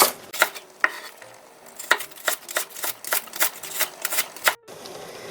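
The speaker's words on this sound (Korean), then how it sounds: "반을 잘라서 길게 길게 채를 썰어주세요" A knife slicing the white part of a green onion into thin strips on a cutting board, a steady run of crisp close chops with slight pauses, ending in a brief quiet.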